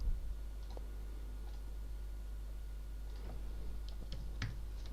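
Faint, sparse key presses on a computer keyboard, a few quiet scattered clicks over a steady low hum, growing slightly busier toward the end.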